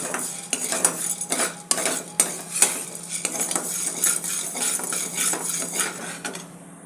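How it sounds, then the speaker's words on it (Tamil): Sago pearls roasting in ghee in a pan, a spoon scraping and clinking steadily against the metal as they are stirred, with a soft continuous frying hiss underneath and no voices. "ஒரு 2 ஸ்பூன் அளவு ஜவ்வரிசியை சேர்த்துட்டு இந்த நெய்யில் நல்லா வறுத்து எடுத்துகிட்டு நம்ம வேக விடணும்"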